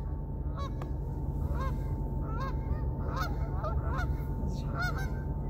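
Wild geese honk repeatedly in the middle distance over frozen water on a foggy -22°C day, with irregular calls scattered over a steady low engine rumble, likely from an icebreaker.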